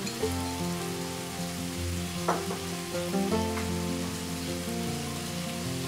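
Liquid asafoetida water poured into a hot pan of sweet potato stir-fry with coconut, giving a steady, close sizzle with a few brief splashy bursts as it hits the oil.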